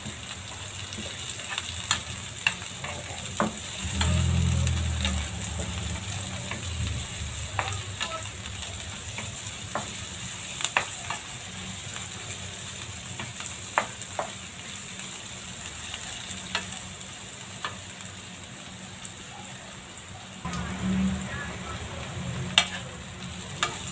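Shredded cabbage sautéing in a pan, a continuous close sizzle with stirring scrapes and clatters throughout and a louder rumbling surge around the fourth second.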